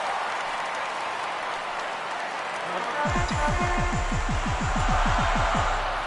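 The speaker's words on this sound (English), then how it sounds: "he'll get himself a nice little ovation for the work he's turned in on the mound so far" Broad crowd roar and applause for the pitcher in a baseball video game, steady and full throughout, with a low rhythmic thumping joining in partway through.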